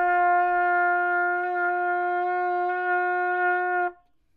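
A trumpet sustains a single open G with no valves pressed, a steady, bright, clear tone held loud and close for about four seconds before it stops cleanly.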